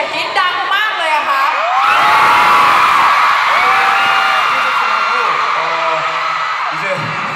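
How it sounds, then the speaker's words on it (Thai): Concert crowd of fans at a show in Bangkok screaming, whooping and cheering loudly and continuously, a dense wall of shrill voices filling the whole stretch. "เสียงกรี๊ดดังมากเลยอะค่ะ"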